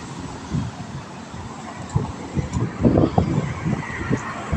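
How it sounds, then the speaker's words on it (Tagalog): Cars, taxis and other vehicles rolling along a busy street, their low rumbles rising and fading as they pass, with wind buffeting the microphone and a few faint background noises. "Ito yung mga sasakyan."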